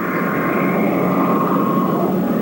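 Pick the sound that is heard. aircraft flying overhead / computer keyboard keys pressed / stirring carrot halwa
aircraft flying overhead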